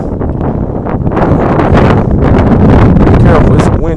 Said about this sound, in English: Be careful, it's a windy day